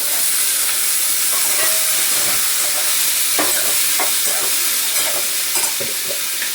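Loud, steady sizzling of ridge gourd sautéing in a hot pan with spices, a dense hiss throughout with occasional spatula stirs and scrapes, close with no talking.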